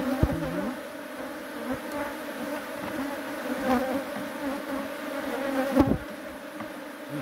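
A honeybee swarm buzzes steadily at a hive as a honey super is placed on it, a dense continuous hum held close for several seconds with a few brief knocks.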